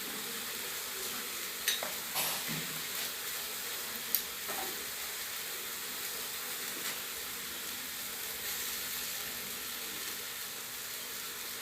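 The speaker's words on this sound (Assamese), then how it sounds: "এতিয়া অলপ ভাজি ল'ব লাগিব" Onion, potato and chili pieces frying in a pan with turmeric, a dense continuous close sizzle with a few sharp clinks of the stirring spoon early on, no voices.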